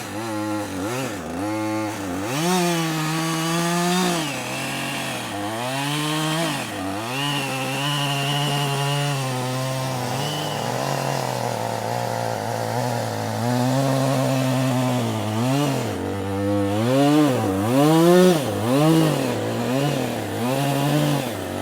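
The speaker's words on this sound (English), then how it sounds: "they are already sawing noisily so that the first shape comes out of the tree" A chainsaw roughs a tree trunk into the first shape of a wood sculpture outdoors by Lake Brienz, the engine loud and continuous, its pitch rising and dropping repeatedly as it bites into the wood.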